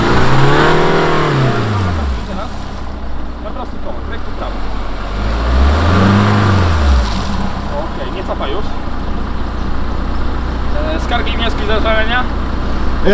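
A Land Rover Discovery Sport engine revs hard and loud at full throttle off-road, with rising and falling pitch sweeps, steady road and drivetrain noise underneath, and voices talking over it.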